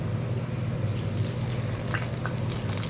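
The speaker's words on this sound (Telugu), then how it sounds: "నూనె కాగింది ఆవిర్లు వచ్చేస్తున్నాయి ఇక మనం గారెలు వేసేద్దాం" Mung bean vadas frying in hot oil, a steady loud bubbling sizzle throughout, with faint clinks in the background.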